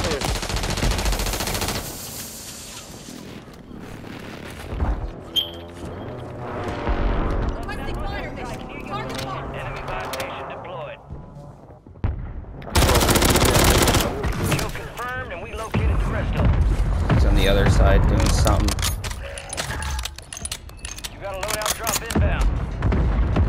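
Automatic weapon fire from a Rival-9 build in Warzone 3, with rapid bursts and single loud shots through most of the stretch. A voice comments over the bursts, and the gunfire grows denser and louder in the second half.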